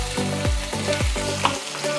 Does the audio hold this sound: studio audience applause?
no